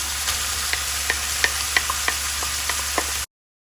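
Onion and minced meat sizzle in a frying pan, a steady broadband hiss with regular scraping stirs of a utensil punctuating it about every third of a second, close and alone.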